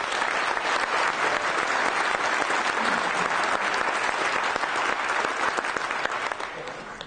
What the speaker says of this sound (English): Please join me in a warm round of applause